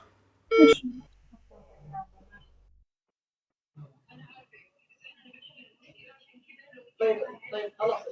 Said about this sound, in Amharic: ያው መዳምሽ ጋር እየደወልኩ ነው።